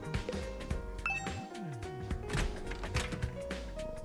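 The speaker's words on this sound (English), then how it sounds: "another sound echoed through my room. The doorbell." A doorbell chimes in the video game The Hundred Lines: Last Defense Academy, a short bright ring set against busy game music and effects in a dorm room scene.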